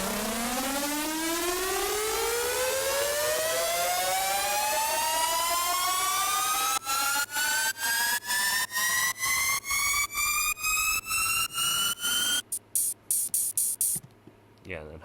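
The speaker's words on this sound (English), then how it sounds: "you're gonna start this riser here." A synthesized riser in a K-pop production climbs steadily in pitch over about twelve seconds, bright and loud. It then breaks into rapid rhythmic chopped pulses before cutting off near the end.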